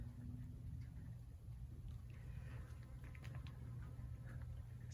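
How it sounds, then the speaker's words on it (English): Light rain sprinkles fall in a garden, a soft, scattered patter of faint drops over a low steady background rumble, with no one talking. "It was not supposed to rain today, but there are little sprinkles on the ground."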